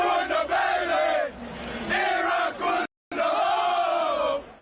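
A crowd of about 5,000 fans at a drive-in cheers a Socceroos goal, with loud roaring shouts that swell, ease, cut out briefly and then surge again.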